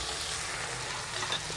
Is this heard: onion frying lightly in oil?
yes